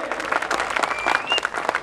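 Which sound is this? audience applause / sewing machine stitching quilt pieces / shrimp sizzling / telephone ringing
audience applause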